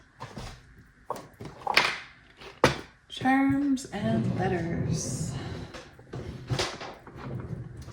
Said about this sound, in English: Sorry about the drawers on my desk being loud.